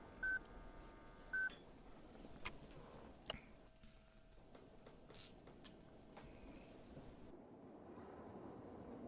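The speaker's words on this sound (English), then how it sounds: "can I press any other button while the beeping's going on?" Short electronic beeps from the video game Alida repeat a few times over a low, steady ambient wash, with scattered clicks and no speech.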